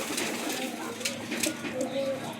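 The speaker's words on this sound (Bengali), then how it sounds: "এই দেখেন কবুতর" Pigeons coo softly on a home rooftop garden in Bangladesh, low repeated calls under a steady hiss of background noise with sharper bird sounds around them.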